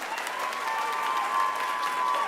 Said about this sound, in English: All right, one last round of applause.